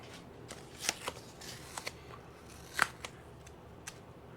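Adhesive backing peeled off a trailer trim strip, heard as a few short, crisp tearing crackles spaced out over quiet, with no talking.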